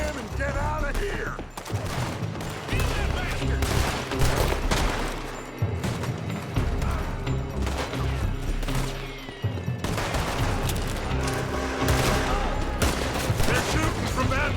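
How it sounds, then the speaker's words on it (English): Gunfire from a building in a Red Dead Redemption 2 shootout: dense, sustained volleys of rifle and pistol shots, some close and loud, others farther off, rattling on almost without pause. "They're shooting from that building."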